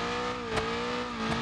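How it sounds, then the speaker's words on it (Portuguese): Strained, droning turbocharged Volkswagen Passat engine in BeamNG.drive, towing a van at high load, holding a steady close revving tone with a couple of brief rises and no voices. "O motor já tá quase fervendo, velho"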